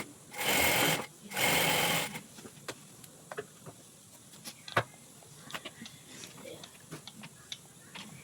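A sewing machine stitches the lining onto a blouse sleeve in two short, close whirring bursts, followed by scattered light clicks and handling taps as the fabric is moved.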